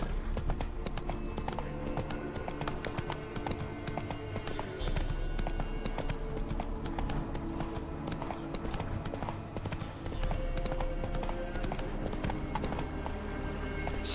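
Close, steady galloping hoofbeats from Roach, the horse in The Witcher 3, drum on without a break through most of the stretch, backed by in-game music and ambience, with only faint speech.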